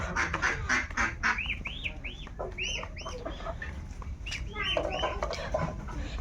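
Ducks quack and chickens cluck close by near a river on a winter day, several short overlapping calls in a busy farmyard chorus over low background noise.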